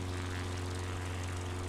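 Drone propellers in flight produce a steady, even high-pitched hum, constant and fairly faint, with no voices.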